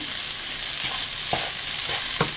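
Onions and coconut sauté in a pan with a steady bright sizzle, broken by a few soft stirring scrapes as the mixture is moved around.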